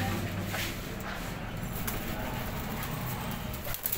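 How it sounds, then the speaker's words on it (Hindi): Black, heavy-bodied pigeons in a bird-keeper's collection cooing, low soft hums against a constant background murmur, fairly close and steady, with no clear talking. "ये जो काले मोटे वाले कबूतर हैं"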